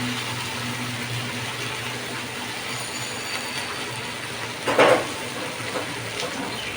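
Prawns tossed into hot oil with turmeric in a pan sizzle steadily at a moderate level for several seconds, with a brief clatter of a utensil partway through.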